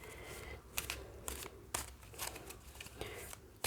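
Tarot cards shuffled and drawn by hand, a run of soft papery riffles and flicks in short bursts against a quiet room, close and fairly faint.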